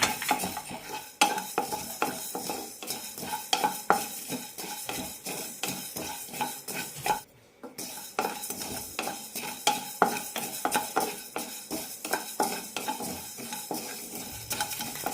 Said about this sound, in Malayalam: രണ്ട് മൂന്ന് മിനിറ്റ് ലോ ഫ്ലെയിമിലിട്ട് വറുത്തെടുക്കാം മല്ലിയുടെ കളറൊന്നും മാറണ്ട നന്നായി ചൂടാക്കി കിട്ടിയാൽ മതി